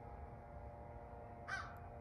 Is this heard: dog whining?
no